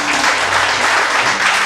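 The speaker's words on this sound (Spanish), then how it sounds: "Denle otro fuerte aplauso a Dios." A church congregation at a Spanish-language worship service breaks into loud, dense applause, a continuous close wash of clapping throughout.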